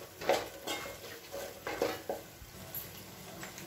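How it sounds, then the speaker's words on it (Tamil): Onion and garlic paste sautés in a pan with a soft sizzle as a spoon stirs it, giving a string of scrapes and clatters at close range. "இப்போ கொஞ்சம் அடுப்பை அதிகப்படுத்திட்டு வெங்காயமும் பூண்டும் நல்லா வதங்கணும்."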